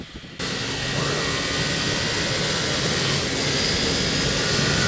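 Kawasaki Z800 motorcycle, a 2016 model, cruising at speed on an interstate, with a steady loud roar of engine and wind rush filling the whole stretch after a brief quieter start.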